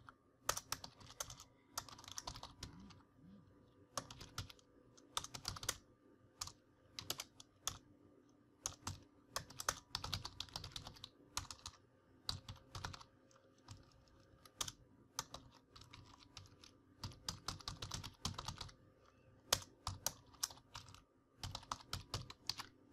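Rapid, irregular typing on a computer keyboard while writing PHP code, close and fairly quiet, with bursts of keystrokes separated by short pauses.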